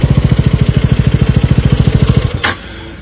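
A KTM Duke motorcycle idles with a steady, rapid, loud thumping pulse close by, then cuts off abruptly after about two and a half seconds, leaving only faint background hum.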